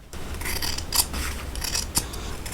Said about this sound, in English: Clip off the excess at the corner and snip in toward the seam at the inner curves.